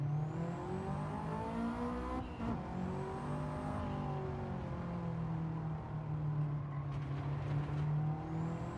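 Bugatti Veyron and Ferrari Enzo racing in a driving video game, their engines a loud, steady high-revving drone with rising and falling pitch as they accelerate and shift, running continuously with no talk.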